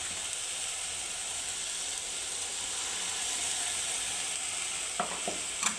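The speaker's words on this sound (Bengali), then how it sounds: "এটাকে এখন আমি আবারও তিন চার মিনিট একটু নেড়ে নেব যেন খুব সুন্দরভাবে ভাজা ভাজা হয়ে যায়" Tomato paste with onion paste frying in a pan for prawn malaikari, a steady soft hiss of sizzling throughout, with a few faint stirring scrapes near the end.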